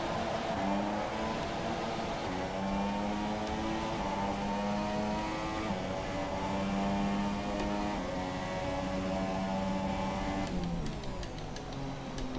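Simulated Formula 1 car engine in the F1 2017 racing game, Renault car at the Russian round, droning loudly and steadily with stepped pitch drops as it shifts down through the gears, no talking over it.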